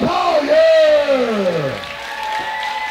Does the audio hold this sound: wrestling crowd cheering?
yes